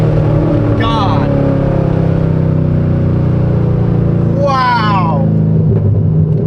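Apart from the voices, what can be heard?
Chevrolet Corvette C6 Z06 engine revving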